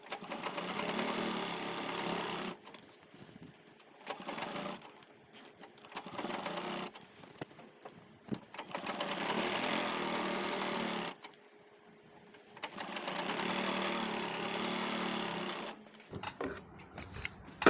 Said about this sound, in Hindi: अब इसको इस तरीके से पलटेंगे और ऊपर से एक पैर की सिलाई लगा देंगे